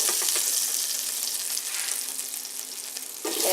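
Food sizzles steadily in a pot while pork chops, stewed potatoes and green beans are cooked, a loud continuous frying hiss with no one talking.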